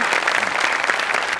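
A studio audience on a Marathi comedy show claps in a brief, dense burst of applause, close and loud, with no talk over it.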